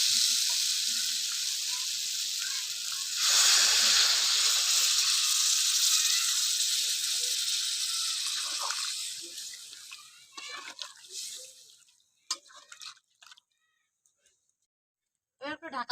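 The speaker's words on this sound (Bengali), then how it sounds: "ফুলকপি আলুটা ভালো করে কষানো হয়ে গেছে এবার দিয়ে দেবো জল" Water poured into a pan of sautéed cauliflower and potato sets off a loud, close hiss and sizzle that fades over several seconds into quiet, with brief clatter near the end.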